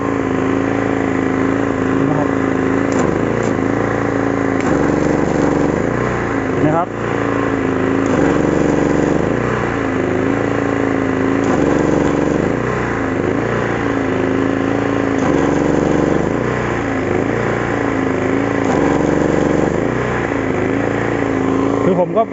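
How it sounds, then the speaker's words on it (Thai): A 3000 W petrol generator runs under load from an arc welder, giving a steady, loud engine drone throughout with slight surges, while someone talks over it. "เสียงเครื่องครับผมเวลา ดึงกระแสไฟปุ๊บเครื่องทำงานนะครับ"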